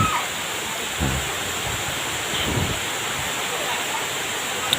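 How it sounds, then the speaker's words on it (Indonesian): A steady, loud roar of falling water fills the whole clip, a constant broad hiss with a few low rumbles beneath it. "Kita sudah sampai di air terjun yang pertama"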